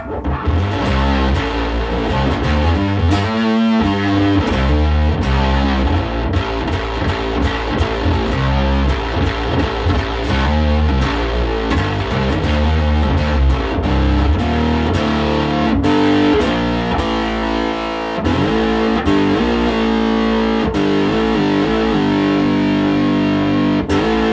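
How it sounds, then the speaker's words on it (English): Electric guitar through an amp head's built-in heavy distortion plays dense riffs and chords, loud and saturated, continuing without pause and with no voices. "a heavy distortion that's built into an amp head"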